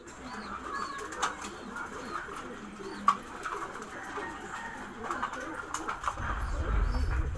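Soft coos from German Beauty Homer pigeons being fed, with light bird activity murmuring through a busy outdoor scene, a brief flutter and low rumble near the end.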